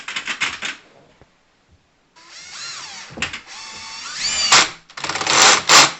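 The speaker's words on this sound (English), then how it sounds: "reduce the ratchet setting on your drill" A power drill whirs in several bursts, revving up and down as it drives screws into a ceiling, with short pauses between runs.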